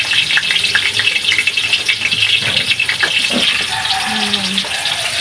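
Food fries in cooking oil with a continuous close crackle and hiss, and a person talks over it.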